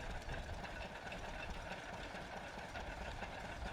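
A steady mechanical hum from a Lister stationary engine at a steam show runs continuously at a moderate level, with a faint rhythmic knock and no voices.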